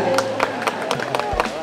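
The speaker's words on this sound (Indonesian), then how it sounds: "Beri tepuk tangan." An audience claps at a world martial arts festival, a burst of separate claps with talk heard alongside.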